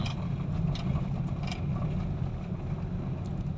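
A Hyundai Accent engine holds high revs while climbing a steep hill, a steady droning roar with wind buffeting the microphone and no break in the strain.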